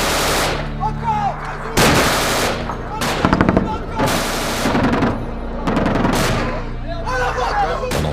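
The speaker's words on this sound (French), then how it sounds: "il y a des tirs actuellement" Military machine gun fire during a combined-arms combat engagement, loud rapid bursts of automatic fire repeating in several volleys, with distant shouting and battlefield noise between them.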